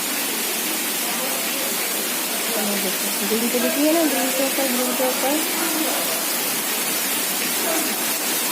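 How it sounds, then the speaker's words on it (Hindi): Very heavy rain falls steadily at night as a dense, continuous outdoor hiss, with someone talking over it partway through. "बहुत तेज़ हो रही है बारिश, बहुत तेज़ वाली बारिश है"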